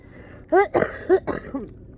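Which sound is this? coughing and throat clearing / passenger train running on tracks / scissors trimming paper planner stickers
coughing and throat clearing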